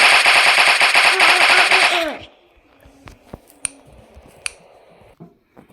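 A long rapid burst of automatic gunfire rattles loudly for about two seconds, then stops abruptly, followed by a few scattered clicks and taps.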